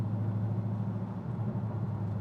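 A Porsche car's engine running steadily, a low, even rumble heard from inside or close by, with no talking.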